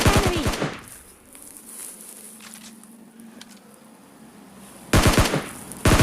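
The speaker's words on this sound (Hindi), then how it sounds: "मैं थोड़ा बहुत फायर करता हूँ" Automatic gunfire from a PUBG Mobile Lite match, a loud rapid burst at the start, then a quiet stretch of faint ambient game noise, followed by two more sharp bursts of shots near the end.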